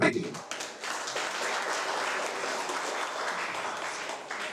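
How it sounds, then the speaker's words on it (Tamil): An audience applauds children who performed at a devotional song programme in Tirukkovilur, steady moderate clapping filling the hall after a brief opening sound. "குழந்தைகளை மீண்டும் எல்லோரும் ஒரு கரகோஷம் கொடுத்துவார்"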